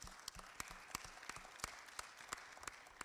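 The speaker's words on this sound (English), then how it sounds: "Give a round of applause for him." Audience at a fatherhood panel event clapping for a guest, a thin, sparse spread of individual claps with sharp distinct hand strikes standing out, fairly quiet and distant.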